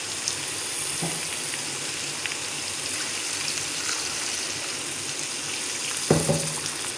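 Mutton chops frying in a pan as about a glass of water is added, giving a steady close sizzle throughout with a brief hiss and splash burst near the end.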